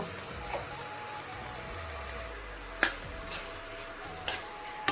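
Food in a pan for an Assamese lunch, cooked in a little oil, hisses with a steady soft sizzle while a utensil scrapes and taps the pan at intervals, close and moderately quiet.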